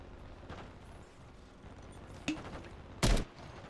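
Gunfire from Call of Duty plays faintly under a low background rumble, with a distant pop partway through and then a sharper, louder shot near the end.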